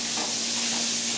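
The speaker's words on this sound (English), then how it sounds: "So we're searing that off a little bit." Carrots, leeks and fennel sear in a hot pan with a steady, close sizzle and hiss throughout.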